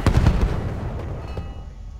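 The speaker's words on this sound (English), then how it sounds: "Grenade out!" A grenade explosion in the Battlefield 1 Sinai Desert map: a burst of sharp booming cracks at the start, then rumbling debris and distant battlefield noise fading away.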